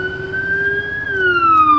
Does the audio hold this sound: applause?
no